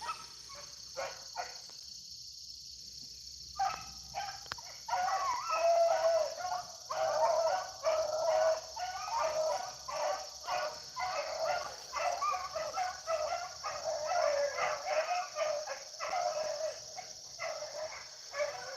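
Beagle hounds bay and bark repeatedly out in the open while running a rabbit, a busy chorus of overlapping yelps at moderate distance, starting after a brief quiet moment and continuing steadily.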